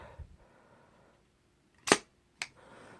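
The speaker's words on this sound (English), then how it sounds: "you rack your pump to its forward position." The pump of a Winchester Model 12 shotgun is racked forward, producing a sharp metallic clack followed half a second later by a second, softer click, close up in a quiet room.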